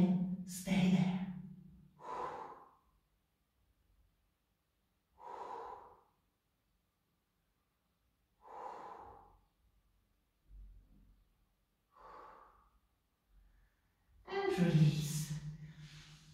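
Slow, deliberate breaths in and out during a Pilates stretching routine, a few soft audible exhales and inhales spaced apart with a louder breath at the end, in a quiet room.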